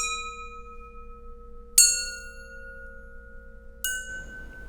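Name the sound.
homemade metal chime made from shower curtain rail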